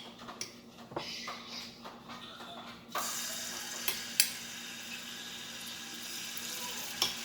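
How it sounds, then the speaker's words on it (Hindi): Garlic and ginger hit hot oil in a wok, launching into a loud, steady sizzle that fills the rest of the clip after quieter clinks and kitchen sounds at the start, with a few sharp spatters and utensil taps. "कढ़ाई में तेल ले लेंगे 2 चम्मच, लहसुन अदरक डालेंगे"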